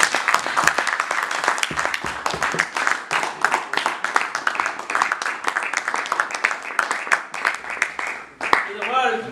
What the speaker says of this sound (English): I want you to give a big round of applause.